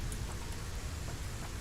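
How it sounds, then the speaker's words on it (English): Steady rain falling in the video game Satisfactory, a constant low wash of drops with a faint rumbling undertone, playing alone without voices throughout. "we're back in Satisfactory, and it's raining"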